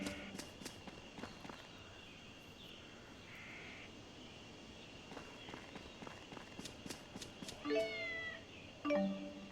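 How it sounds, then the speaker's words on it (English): In the video game Tales of Xillia 2, a cat meows twice near the end, short and distinct, after a stretch of quiet footsteps and light game effects with background music. "We got a cat."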